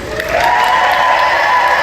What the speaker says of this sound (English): Give one last round of applause for our Agent Stone